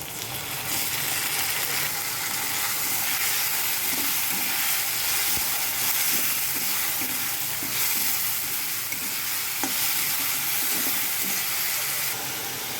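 A ground paste of tomato, onion, garlic and ginger fries in hot oil for a fish curry, giving a dense, steady sizzle and hiss. Soft intermittent stirring scrapes run under it, close and even throughout.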